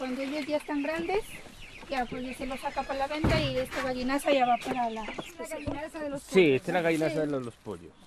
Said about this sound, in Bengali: জুয়ানের পরিবার মুরগি কিনেছেন